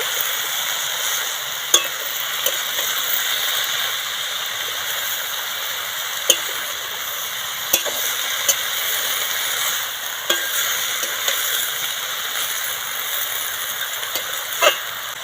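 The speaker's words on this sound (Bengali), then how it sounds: "পালং শাক অল্প জাল দিয়ে আস্তে আস্তে নাড়াচাড়া করে নেব" Spinach for a soybean-nugget dish being stirred slowly in a pan over low heat, with a steady soft sizzle and occasional sharp clicks of the spatula against the pan, no talking.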